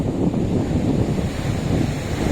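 Sea waves washing against a beach seawall where the land has been eroded, a steady broadband rush of surf mixed with wind buffeting the microphone, continuous and fairly loud with no voices.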